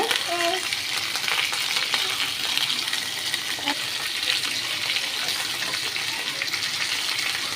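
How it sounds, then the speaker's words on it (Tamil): Tomatoes and garlic frying in oil for a tomato chutney, a steady close, dense sizzle and crackle running evenly throughout with faint stirring, no talking. "இப்போ இந்த தக்காளியும் பூண்டும் ஒரு அஞ்சு நிமிஷம் வேக விடுவோம் நம்ம எண்ணெயிலே வேகட்டும்"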